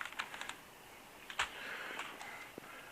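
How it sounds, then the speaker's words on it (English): Fingers tap on a small, slightly worn computer keyboard, a light irregular patter of quiet clicks with one sharper key strike, heard close and alone in a hushed room. "So it's a pretty nice little keyboard."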